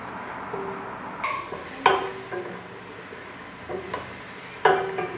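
A large onion browns in a pan, giving a soft, steady sizzle with occasional sharp clinks and scrapes of a spoon stirring against the pan, fairly close and unaccompanied by talk.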